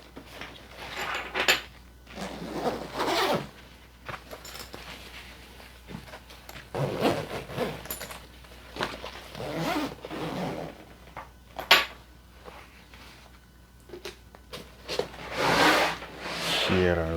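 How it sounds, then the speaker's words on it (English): A zipper on a travel backpack is pulled closed among scattered rustling and rubbing of fabric and gear while packing, with several brief scraping bursts at close range and no clear talking. "close the zipper"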